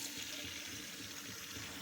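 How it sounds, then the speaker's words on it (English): Kitchen tap running steadily to fill water for dogs, a continuous soft hiss of flowing water with no talk. "Get these water going for these dogs."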